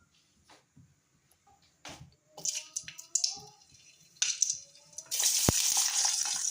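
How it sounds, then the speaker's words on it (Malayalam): Chopped ginger hits hot coconut oil in a pan, with scattered clicks and taps, a few bursts of crackle, then a loud, steady spitting sizzle that builds near the end. "അരിഞ്ഞ് വെച്ചതിന് ഇഞ്ചി ഇട്ട് കൊടുത്തിട്ടുണ്ട്"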